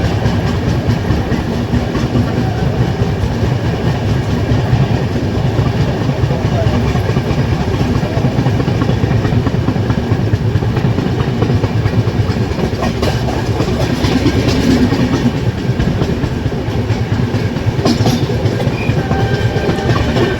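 Bodinayakkanur Super Fast Express, a first AC train nearing Madurai, runs steadily on the rails with a continuous loud rumble and rattling clatter throughout, no talk.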